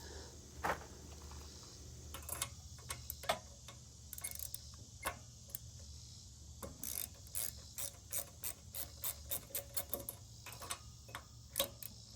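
Removing the two studs that hold the push rod guide on a Craftsman riding lawnmower engine: a close, irregular series of sharp ratchet clicks, in bursts and quicker runs, with no talk.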